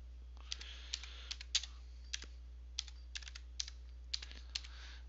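Search terms are typed on a computer keyboard, heard as close, irregular key clicks in short bursts over a steady low hum, with no talking.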